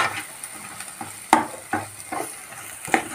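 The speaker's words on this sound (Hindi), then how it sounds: "सभी मसालों को हम अच्छे से मिक्स कर लेंगे" Spices with Kashmiri red chili powder and salt are stirred and fried in a pan over a low flame: a steady, close sizzle broken by a handful of irregular scraping strokes of the spoon.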